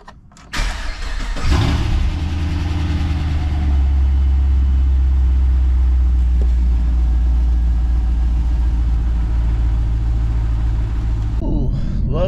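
A Pontiac GTO engine cranks and fires up, then settles into a loud steady idle with a low roaring drone that continues close by until near the end.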